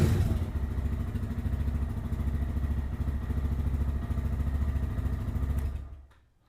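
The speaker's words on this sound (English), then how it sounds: "I'll start it up for you so you can hear it." Lifan KPM 200 motorcycle fitted with an aftermarket exhaust, idling at a steady low thrum with a slight mechanical clatter, close and loud, then cut off abruptly near the end.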